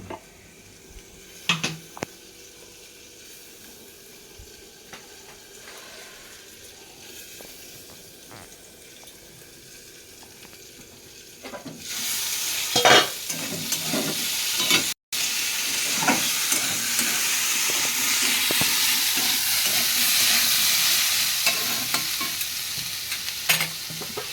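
A ground spice paste fries in a pan for a home-style chana dish, starting as a soft low sizzle with occasional scrapes, then swelling into a loud, steady hiss with stirring clatter after a lid is lifted.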